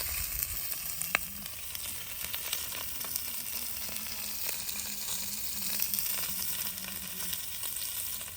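Food fries in a pan at a campsite with a continuous, close crackling sizzle and a low steady hum underneath, with no talk.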